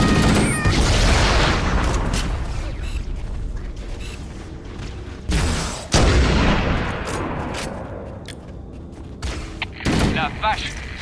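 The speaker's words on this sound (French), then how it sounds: "La vache, ces canons vont nous réduire en miettes." Cannon blasts and rapid gunfire in the video game Halo: Combat Evolved, loud and dense battle sounds with booming hits and bursts of shots, mixed with game voices.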